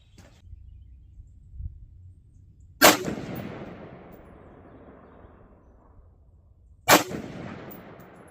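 Two loud rifle shots several seconds apart at an outdoor range while a CVLIFE JackalHowl red dot sight is being zeroed, each a sharp crack with a long fading echo, with quiet ambient noise between them.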